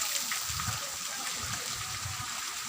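Water at a natural hot spring rushes and bubbles steadily in a hiss, with low gurgling pulses running beneath it.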